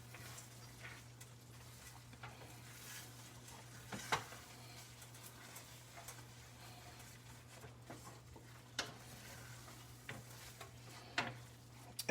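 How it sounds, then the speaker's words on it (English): Stirring seafood risotto in a pot, a soft, continuous simmer with scattered light scrapes and clicks of the spoon against the pot, faint and close. "So we're gonna stir that beautifully in."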